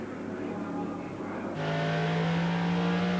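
Race cars in the 1990 TVR Tuscan Challenge, including a Lister Jaguar, roar past with a steady engine drone that rises sharply halfway into a louder, higher whine as a car closes in.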